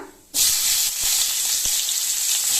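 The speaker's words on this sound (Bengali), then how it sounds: "এবার এর মধ্যে দিয়ে দেবো কুচিয়ে রাখা পেঁয়াজটা" Chopped onion dropped into hot oil with cumin seeds, bursting into a loud sudden sizzle that continues as a steady close frying hiss.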